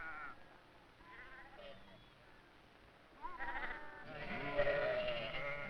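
Sheep bleat repeatedly, a few faint calls at first, then a louder chorus of several animals bleating together nearby.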